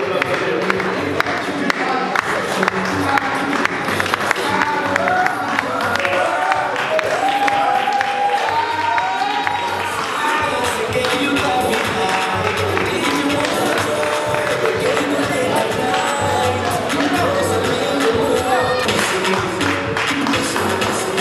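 A Paris fashion show audience claps steadily for a long stretch, dense and loud applause with crowd murmur and occasional cheers, and a voice talking over it at times.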